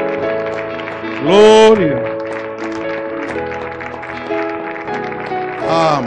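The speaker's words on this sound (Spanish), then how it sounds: "Deme un aplauso a Él, mi hermano." A church congregation at a Spanish-language service claps in praise, a fairly steady patter of hands under a sustained musical backing, with a voice rising loudly twice to call out over it.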